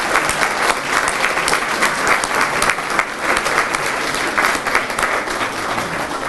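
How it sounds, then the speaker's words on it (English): Loud, continuous round of applause from a crowd honoring graduates at a school DARE ceremony, dense clapping holding steady throughout without speech. "let's give one big round of applause for all our graduates."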